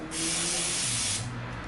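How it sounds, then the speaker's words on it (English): A quick burst of cleaning spray hits a game cartridge, one sharp hiss lasting about a second, close and loud. "Quick spray."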